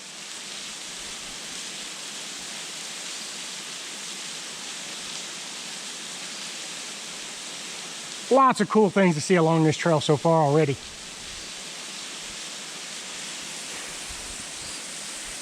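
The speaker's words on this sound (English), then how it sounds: "This is our third waterfall on this trail" A waterfall on Devils Rock Trail roars as steady broadband rushing water throughout, with a person briefly speaking over it partway through.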